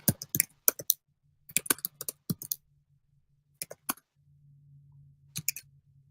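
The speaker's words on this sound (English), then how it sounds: "Oh, I'll type that down." Quick clusters of clicks from typing on a computer keyboard, coming in short irregular bursts with brief pauses between them, close and fairly quiet against a faint low hum.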